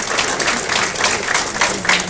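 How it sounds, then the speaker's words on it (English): Steady round of applause from diners at a farewell dinner, a dense, even wash of many hands clapping close by for about two seconds with no talk over it. "So we have a big round of applause for Nakroof."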